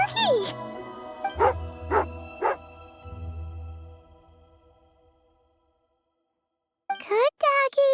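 A dog barks in a video game, a handful of sharp, separate barks and yips over a low hum, followed by a short silence and then a final burst of barking.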